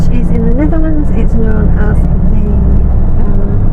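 Busy road traffic on the Antwerp ring road, a steady loud rumble of passing cars and trucks, with people talking over it throughout.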